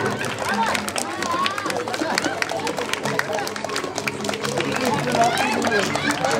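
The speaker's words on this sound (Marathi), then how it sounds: "टाळ्या टाळ्या आवाज येते टाळ्यांचा आवाज येतो" A crowd clapping during a game, quick overlapping claps mixed with loud chatter and shouting voices throughout.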